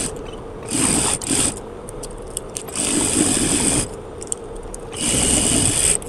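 Sewing machine stitching a sleeve hem over an existing seam, running in three steady whirring bursts with a high mechanical whine. Light clicks and scrapes fill the pauses between runs.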